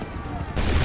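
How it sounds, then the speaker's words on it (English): A musket volley in Assassin's Creed 3, set in the 18th century, a sudden loud massed crackling blast that erupts after a quieter lead-in and sustains to the end. "Wait for my signal. Open fire."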